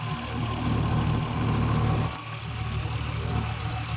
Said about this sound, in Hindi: तो चल रहा है ट्रैक्टर